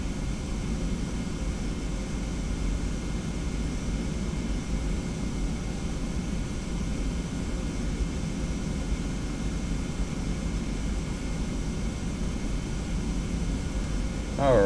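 A TFDi 717 jet airliner sits ready for takeoff in a flight simulator game, its engines holding a steady, even, broadband drone that continues unchanged throughout.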